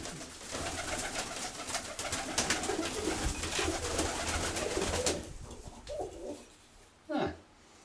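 A pigeon coos softly over a background of rustling noise, followed by a couple of fainter coos after it quiets.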